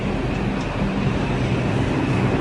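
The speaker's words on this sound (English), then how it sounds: "So here you see you have this train" A New York City subway train rumbles steadily at close range, a loud continuous low roar of a carriage in motion.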